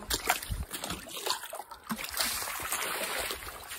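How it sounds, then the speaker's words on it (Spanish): Clean water poured into a ducks' water container on a snowy winter farm, with uneven splashing and sloshing bursts close by, ending in a steadier trickling pour. "Y que ahora le echo agua limpia."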